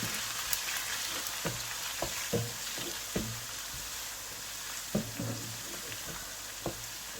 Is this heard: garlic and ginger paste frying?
yes